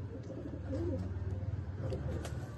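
A prized pigeon with striking eyes coos close by in a brief, soft run of low, throaty coos, quiet and alone.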